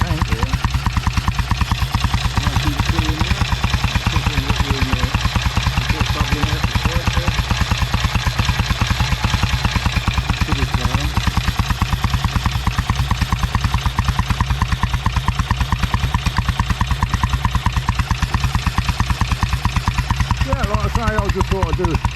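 An old Royal Enfield big twin motorcycle engine idles steadily nearby with a constant low throb and mechanical clatter, while someone talks intermittently over it.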